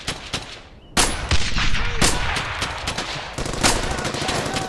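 Gunfire in the video game Brothers in Arms: Hell's Highway, loud sharp rifle and machine-gun shots cracking in irregular bursts, with brief shouted voices in between.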